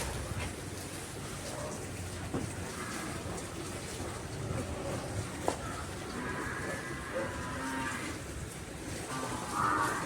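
At a cow shelter in Surat, a cow moos in drawn-out calls over a constant, busy background of noise and livestock activity, with a second, shorter low call near the end.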